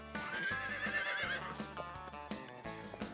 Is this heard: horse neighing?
yes